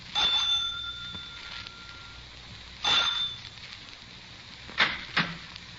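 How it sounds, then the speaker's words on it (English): A front doorbell rings out near the start of a 1954 radio drama, then twice more with short bright chimes, separated by quiet pauses in an otherwise still room. "I rang the front doorbell."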